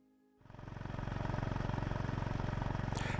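A motorcycle engine starts up from near silence and revs into a steady, loud, pulsing drone while riding along a coast road in Japan, close to the microphone with a rhythmic throb throughout.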